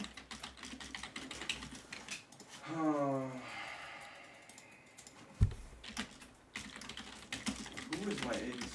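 Rapid computer keyboard typing, close and fairly quiet, runs through most of the stretch in clattering bursts around a brief pause, while a voice talks intermittently.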